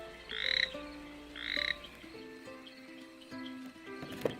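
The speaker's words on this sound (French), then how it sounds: "Le crapaud à trois taches attend, immobile au milieu de l'étang." Two loud, rasping croaks a second apart with a toad-like quality, followed by softer tonal calls and faint trills, set against a quiet background.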